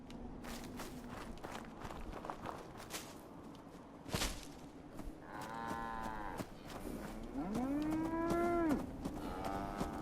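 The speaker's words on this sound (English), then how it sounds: "I'm not gonna shoot the cows. Brahmins." Brahmin cattle in the video game Fallout 4 let out several loud, drawn-out moos, the last one long and rising, over footsteps and faint game ambience.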